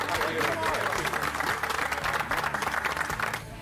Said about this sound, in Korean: 함께 해주신 고든 램지에게 다시 한번 감사의 박수 부탁드립니다.